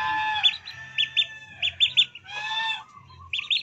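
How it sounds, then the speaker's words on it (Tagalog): Pet Peking ducks call nearby in short, bright, nasal quacks and squeaks, several in quick bursts with brief pauses, loud and clear against a quiet, low background hum. "Yan yung aking alagang Peking duck."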